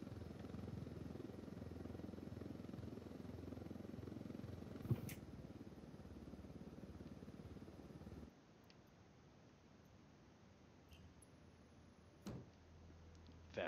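A helicopter in the video game Ghost Recon drones with a steady, low rotor rumble that drops to a quieter idle partway through, broken by a few sharp clicks.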